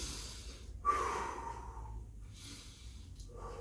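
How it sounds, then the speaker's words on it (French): Close, soft breathing during a pelvic-rotation exercise: a sharp nasal intake, then a long airy exhale through the mouth, followed by a quieter second breath, with no talking over it. "on inspire avec le nez, on expire avec la bouche"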